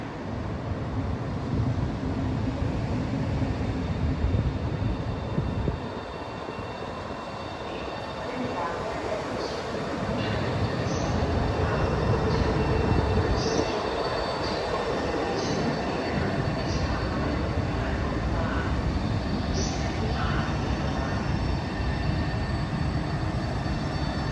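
A Trenitalia regional train arriving at a platform at Venezia Mestre station rumbles steadily nearby with rolling wheel noise and occasional high squeaks, continuous and fairly loud, with some faint voices in the background.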